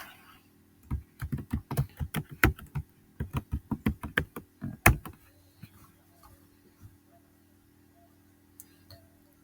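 Close, crisp keystrokes on a computer keyboard as a password is entered, a quick burst of clicks with a few short pauses, then near silence with only an occasional faint tap.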